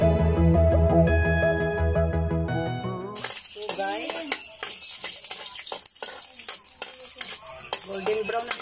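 Garlic fries in a pan with a steady sizzle and stirring scrapes, following a short burst of music at the start.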